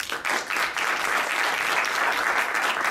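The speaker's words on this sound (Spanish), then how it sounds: "nos va a hablar Bárbara Domínguez, por favor, un aplauso." Applause from a conference audience at a videogame entrepreneurship event, a full steady burst of clapping starting abruptly and sustained evenly for nearly three seconds.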